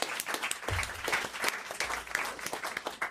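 Studio audience applause on a French radio show, lively and fairly close, with distinct sharp claps standing out in the steady rattle, plus a few low thumps on the microphone.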